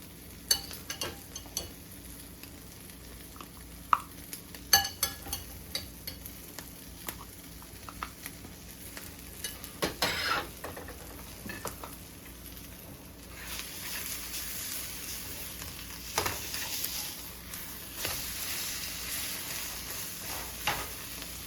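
Brussels sprouts and bacon fry in a pan with a soft, continuous sizzle, broken by intermittent scraping stirs and light taps; the sizzle swells louder partway through, and no one speaks.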